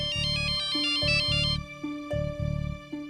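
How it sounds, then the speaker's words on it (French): A mobile phone rings loudly indoors with a bright electronic melodic ringtone, repeating in short bursts with brief pauses between them. "Allez, décroche ce téléphone."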